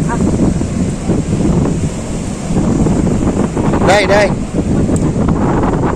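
At a beach, strong wind buffets the microphone over a steady roar of surf and waves, loud and close, with a brief voice calling out partway through.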